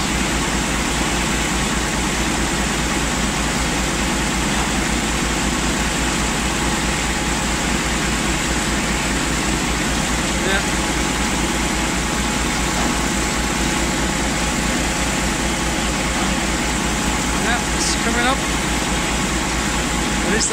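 The engine of a water well drilling rig raising the pump out of a new well, a loud, unbroken mechanical drone that holds steady from start to finish.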